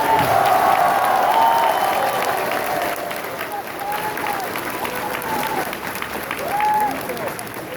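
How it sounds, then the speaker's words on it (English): A large crowd at an Anime Expo Dragon Ball Super panel applauds loudly and steadily for guests on stage, with some cheering mixed in and a few voices carrying over the clapping. "One more big round of applause for all of our special guests here on stage."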